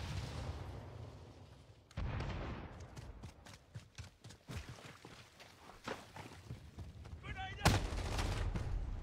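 Bursts of gunfire from a video game ring out in sharp, scattered cracks amid footstep-like thuds, with a louder blast near the end, while players talk casually in the background.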